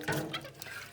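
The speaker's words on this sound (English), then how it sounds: "Just give that a bit of a wash out. I just leave it to soak thick to begin with and wash out this water bottle." Water runs and splashes briefly while a water bottle is rinsed out at a kitchen sink, making a short steady wash of liquid sound.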